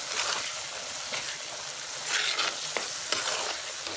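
Onions and spices sauté in a clay pot for Tamil-style salmon fish curry, a steady close sizzle with the scrape and clink of stirring spread across the whole stretch.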